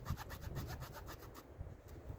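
A Victorinox Swiss army knife saw blade cutting a small branch with light pressure, quiet rhythmic back-and-forth rasping strokes close up, slowing slightly toward the end.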